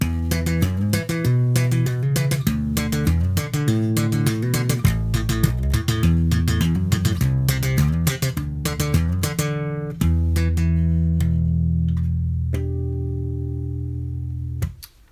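Fast, dense plucked and popped bass notes played with a double pop/pluck technique in a steady driving rhythm, ending with a few sustained ringing notes that fade out.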